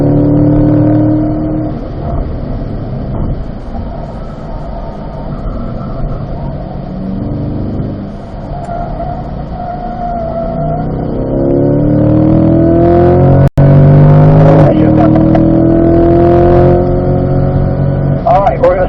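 A car on a race track during a lead-follow driving session accelerates hard, its engine note climbing steadily and loudly near the microphone while an instructor talks over it.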